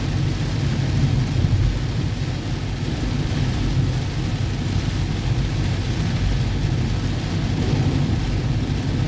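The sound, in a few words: thunderstorm with thunder and rain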